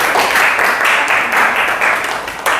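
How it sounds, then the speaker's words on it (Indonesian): A classroom of university students clapping for a classmate, brief and fairly loud applause from a small group, with a dip and a renewed burst of hands near the end. "tepuk tangan dulu buat temannya"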